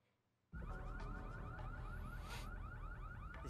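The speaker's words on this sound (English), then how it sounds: "Why is the alarm going off?" A car alarm in the racing game NFS Unbound starts abruptly and blares loud and close, with a steady repeating warble continuing without pause until the end.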